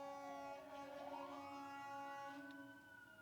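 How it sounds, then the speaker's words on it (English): A faint, distant siren wails with a slow rising and falling pitch, steady and continuous in the background. "we got sirens in the back."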